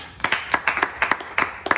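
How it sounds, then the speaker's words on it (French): Scattered hand claps in a small indoor gathering at a religious evangelism training session, a few people clapping irregularly at a moderate level for under two seconds. "Félicitations, applaudissements."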